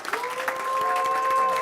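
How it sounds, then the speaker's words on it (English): A school board meeting audience applauds a group of students, a dense, steady burst of clapping from a crowd that holds at full strength through the end. "Let's give this group of students a big round of applause."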